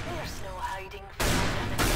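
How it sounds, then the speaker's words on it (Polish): Gunfire and explosions in the Counter-Strike video game: mixed talk and game noise, then from about halfway a loud sustained blast of broadband noise like a burst of shooting and an explosion, close and dominating. "Izak strzela, przeciwnicy giną. Rojo strzela, wszystko wybucha."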